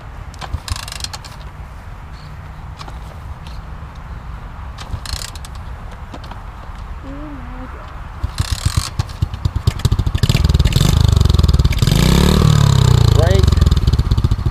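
A 2015 Alan JD motorbike engine starting up, quiet mechanical rattling under talking before the engine catches and runs louder and rougher, revving near the end while people keep talking.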